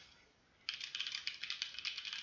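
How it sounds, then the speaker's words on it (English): Rapid keystrokes on a computer keyboard set to the Colemak-DH layout, starting after a brief quiet moment and running as an even, close clatter of clicks with no talking. "So this time I'm gonna type in both colemakdh and qwerty."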